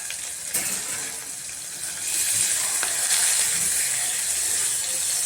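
Onion, garlic and curry leaves frying in a pan give a steady close hiss with faint crackles, turning slightly louder and denser partway through.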